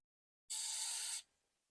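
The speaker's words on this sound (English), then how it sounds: "So I'll use a little bit of brake clean." A single short burst of brake cleaner sprayed onto a brake rotor on a 1968 Mustang fitted with 13-inch Ford rear disc brakes, a close, sharp hiss lasting under a second, then silence.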